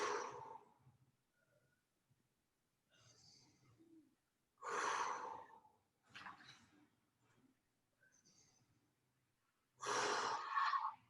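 Slow, quiet belly breathing during a gentle stretching exercise, with soft breaths and several louder, airy exhalations spaced a few seconds apart, close and alone.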